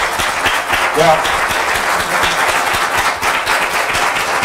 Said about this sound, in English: do the clapping now